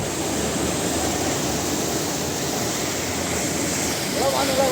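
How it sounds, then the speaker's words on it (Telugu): Floodwater pours across the Kakinada–Kathipudi highway in a steady, broad rushing roar, loud and constant throughout, with a slight swell near the end. "అటు నుంచి ఇటు సైడ్కి వాటర్ అయితే పారుతుంది అనమాట అంత ఎక్కువ వరద అయితే వచ్చేసింది"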